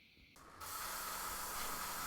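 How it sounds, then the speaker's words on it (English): An airbrush sprays paint onto a large model, starting with a brief soft hiss that swells into a steady, close, fine spray hiss. "You know, a model's too big when I have to actually stand up to airbrush something."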